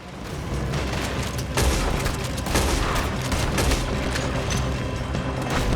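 Gunfire in the video game Red Dead Redemption 2: a dense, continuous barrage of booming shots and crackling reports fills the whole stretch, loud and close, with bursts overlapping into a steady roar.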